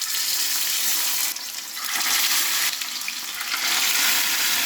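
Pineapple fries in hot coconut oil with a loud, close, continuous sizzle and crackle that dips briefly and then surges back as the pieces are stirred.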